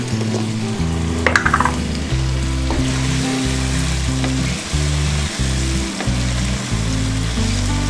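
Green chickpeas and chicken fry with spices in a pan, a loud steady sizzle with scraping stirs and a few sharper crackles, no voices.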